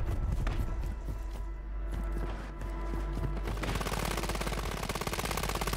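Rapid video game gunfire rattles in close bursts, first scattered shots and then a sustained automatic stream of fire, loud and with no talking.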